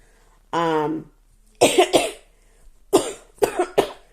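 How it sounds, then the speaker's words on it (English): A hoarse, drawn-out breath is followed by several sharp, close asthmatic coughs in uneven bursts, with short pauses between them. "The coughing that you hear now is a result of my asthma being irritated."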